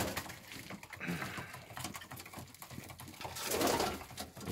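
A big, powerfully built male homing pigeon coos in a loft, a soft low cooing swelling near the end over rustling and scattered clicks, with no talk.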